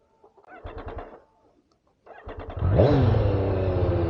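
A 2020 Triumph Street Triple R 765 motorcycle cranks briefly and stalls, then catches on a second crank, firing up with a sharp rev that drops into a steady, close, loud idle.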